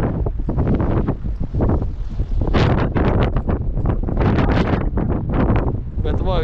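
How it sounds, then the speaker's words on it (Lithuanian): Strong wind buffeting the microphone beside a canal during perch fishing, a loud rumbling roar in uneven gusts, with someone talking over it. "vėl sustiprėja čia vėjas, tai pučia per šoną"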